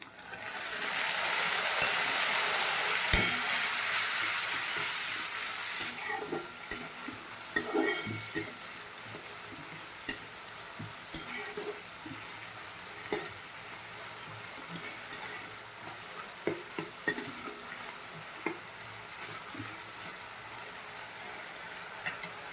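Purple yam sabji cooking in a pan just after half a bowl of water is added, with a loud hissing burst at first that settles into a softer sizzle under repeated spoon scrapes and taps.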